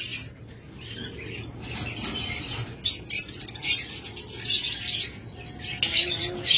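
Caged pet birds at a bird sale chirp in short bright bursts over a steady background murmur, with occasional wing flutters; the birds include diamond doves, lovebirds, budgerigars and cockatiels.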